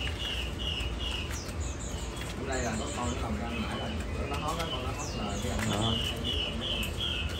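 Caged birds in a bird shop, pigeons or doves cooing alongside repeated bright chirps and tweets, with someone talking over the steady background of calls.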